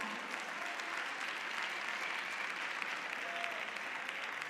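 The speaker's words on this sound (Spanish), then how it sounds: "Así que aplauso para ella." A crowd claps steadily for the costume designer at the Errenteria 2026 carnival comparsa presentation, a dense, even applause that holds for several seconds at moderate volume with no voices.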